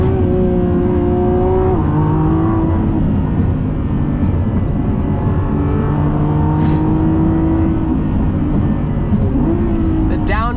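A Lamborghini Revuelto engine roars loud and close from inside the car, climbing in pitch under acceleration with quick gear shifts breaking the rising tone, while a voice talks over it.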